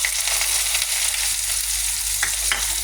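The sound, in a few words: onion frying in a pan with cumin seeds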